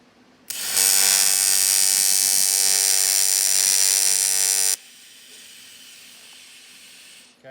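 A welder lays a tack on a BMW M3 340i turbo oil return line, giving off a loud, steady buzzing hiss for about four seconds that cuts off sharply, leaving a faint hum behind.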